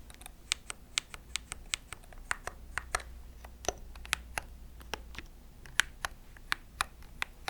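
Rapid, crisp keystrokes on a high-end gaming keyboard, an irregular run of sharp clicks and clacks sounding close and clear against a quiet background.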